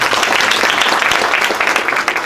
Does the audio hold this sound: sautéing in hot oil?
no